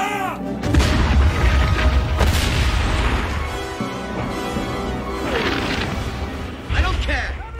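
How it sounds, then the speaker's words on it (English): Artillery fire in a desert battle scene from an Indiana Jones film, with heavy booms and crashing blasts repeating over several seconds amid shouting voices. "Give the artillery the order to open fire."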